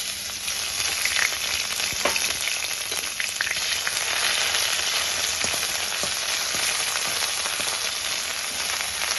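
Ginger and cumin paste frying in hot oil with cumin seeds, two dry red chillies and bay leaf for a coconut and banana flower dish, giving a steady dense sizzle throughout with occasional faint crackles and no voices.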